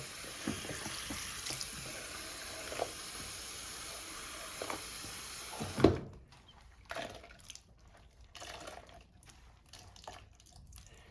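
Running water hisses steadily from a tap onto a lace hair frontal being co-washed, then cuts off, leaving scattered drips and small splashes in a quiet room.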